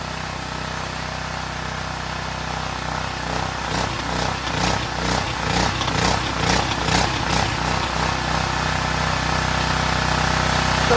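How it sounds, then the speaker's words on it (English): Generac GP3250 portable generator engine running steadily, a loud continuous droning hum with a slightly uneven pulsing rhythm, close by and alone throughout. "for a generator, it's pretty quiet. Runs pretty good."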